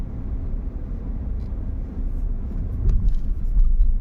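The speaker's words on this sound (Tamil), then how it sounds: "ஸோ 2:27க்கு நம்ம வந்துட்டு மெரினா பீச்சில் டிரைவ் பண்ண போகிறோம்." A car cruises at night along the Marina Beach road in Chennai, its steady low engine and road rumble filling the cabin, slightly louder toward the end, with no talk.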